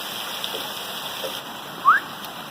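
Steady rain falling at the start of the rainy season in Malindi, a broad even hiss throughout, with a brief brighter chirp near the end.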